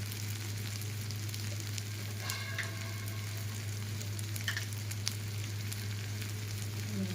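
Vegetables for chicken hakka noodles sizzle steadily as they are stir-fried in a hot pan, a continuous close frying hiss with occasional scrapes and clinks of the spatula over a constant low hum.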